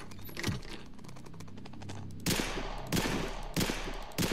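Sharp handgun shots fired in a Family Guy video game, a few loud cracks spaced out over a quiet game background with faint clicks, with no talking.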